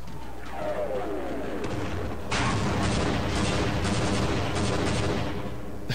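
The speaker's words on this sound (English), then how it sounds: "They're really bombing this place." Bombing and heavy gunfire rage during the Surface Tension chapter of the video game Half-Life: a rumbling barrage swells into dense, continuous bursts of shots and explosions, loud and sustained without any speech.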